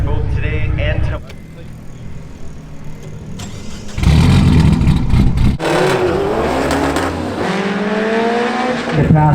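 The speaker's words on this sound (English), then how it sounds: "Hands down, best sounding S2000 I've ever heard" A Honda S2000 race car at a drag racing shootout makes a loud, high-revving engine wail that climbs and shifts through gears, with crowd noise and people talking nearby.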